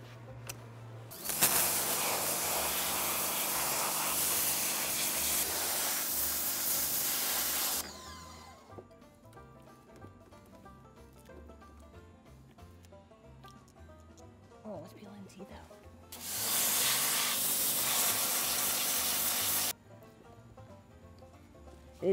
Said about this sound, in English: I just need a higher spray on it.